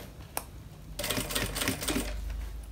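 A sewing machine stitches the side seams of a small bag: after a brief click, a fast, even mechanical rattle starts about a second in and continues steadily to the end, close and moderately loud.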